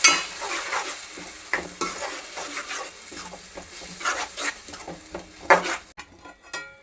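A spoon stirs ground spice paste into fish curry frying in a pan, with repeated scraping strokes over a steady sizzle and clinks against the pot. It ends in a brief quiet moment.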